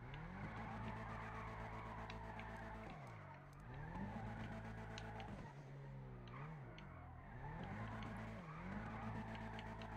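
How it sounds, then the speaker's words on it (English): A car drifts in the PC game GTA V. Its tires squeal and skid almost without a break for about ten seconds over a steady, revving engine, and the pitch of the squeal rises and falls with each slide. "perfect time to take it in the first person and to drift"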